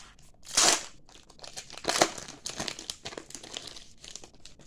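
A Pokémon card booster pack's foil wrapper crinkles and tears open close up, with a loud burst of crumpling followed by rustling and smaller crackles as it is pulled apart.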